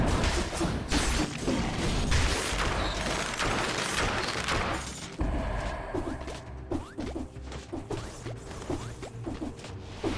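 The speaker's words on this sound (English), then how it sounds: "Eat my cannons!" Cannon fire in the video game Dead Cells comes as a dense, loud barrage of booming blasts and clattering crashes. Sharp hits repeat throughout, and the barrage grows somewhat sparser in the second half.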